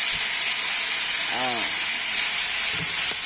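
String beans dropped into a hot pan with garlic for adobong sitaw give a steady, close hiss of sizzling oil that runs through the whole stretch, with a brief voiced sound in the middle.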